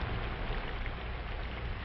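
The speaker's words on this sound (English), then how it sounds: "Rain, rain. It soaks into the soil." Steady rain falls on a vegetable garden of corn, potatoes and onions, a soft, even hiss of drops on soil and leaves with no pauses, heard on an old 1940 recording.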